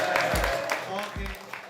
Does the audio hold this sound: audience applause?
yes